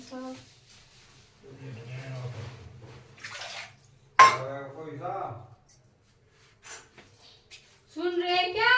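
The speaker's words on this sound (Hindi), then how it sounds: "और अभी कर लेते हैं हम बर्तन साफ।" Dishes are washed at a home sink, with running water, a sharp clink of utensils and pots, and scattered clatter, while someone speaks in Hindi between the sounds.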